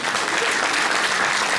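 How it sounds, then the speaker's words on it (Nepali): Audience at a church's 25th anniversary gathering in Kathmandu clapping steadily as an officer is called forward, a dense, continuous wash of applause at full volume with no pauses. "हामी ताली बजाइ नै रहनेछौँ।"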